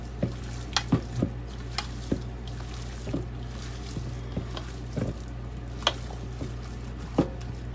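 Ground meat mixed with teriyaki sauce for smash burgers, wet squishing and stirring with repeated soft thuds and scrapes in an uneven rhythm, close by, with no talk.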